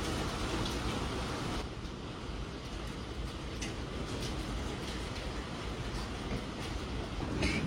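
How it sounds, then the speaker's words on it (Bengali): Hail falling outside in Norway, a dense, steady roar of pelting ice on surfaces close by, continuous throughout with no voices. "বাইরে এখন শিলাবৃষ্টি হচ্ছে"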